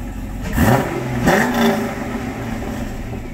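Pontiac G8 engine on stock mufflers, blipped twice in quick succession, each rev swelling and falling back before settling into a muted idle, fairly close.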